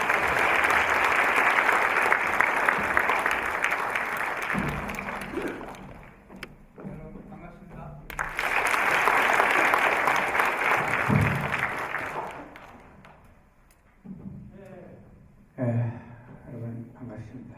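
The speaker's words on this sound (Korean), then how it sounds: "여러분 뜨거운 박수로 교수님을 환영해 주시기 바랍니다" Warm applause from a lecture-concert audience welcoming a novelist onto the stage, two sustained bursts of dense clapping with a lull between them, followed by quieter room sounds and a voice.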